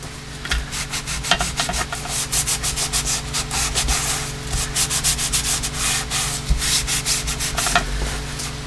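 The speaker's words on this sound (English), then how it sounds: "once it's in place and all lined up, then go ahead and rub it down" A vellum tuck pocket being rubbed down by hand onto a journal page, producing rapid, rhythmic rasping strokes, close and steady throughout with no speech.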